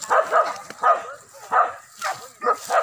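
Hunting dog barking during a wild boar hunt in the Sijunjung countryside, West Sumatra: a run of short, sharp barks repeated in a loose rhythm, fairly close and clear.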